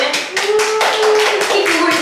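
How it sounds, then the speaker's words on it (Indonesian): Group clapping breaks out in a casual chat session after the audience is asked to applaud, a couple of seconds of fairly loud, close hand claps with a tonal hum and voices mixed in. "Tepuk tangan dulu semuanya."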